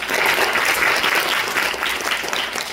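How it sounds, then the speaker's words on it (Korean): Students and faculty at a clinical chemistry student forum give a big round of applause to all the presenting teams. The dense, lively clapping stays loud and steady the whole time. "마지막까지 훌륭한 발표를 모든 팀께 다시 한번 큰 박수 부탁드립니다."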